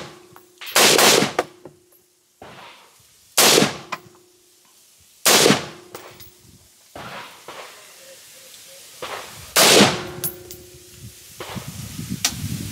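A Makasi pistol fires cheap steel ammo outdoors, four or five loud, sharp shots spaced a second or two apart, each followed by a short ringing echo and quieter handling noises between.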